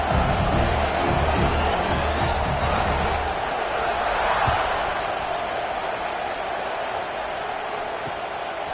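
A stadium crowd roars in a college football video game, Arizona versus Utah, before a kickoff: a broad sustained wash of cheering noise that fades slightly over time, with faint commentary-like murmur underneath.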